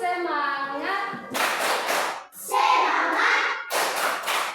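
Schoolchildren in a classroom do a rhythmic spirit clap led by their teacher: a voice opens, then several loud bursts of clapping come in patterned groups, close and lively.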